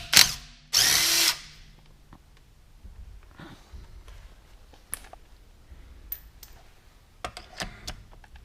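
A DeWalt DCF880 18V cordless impact wrench takes off car wheel bolts in two short loud bursts near the start, followed by quieter clinks and the handling of the bolts.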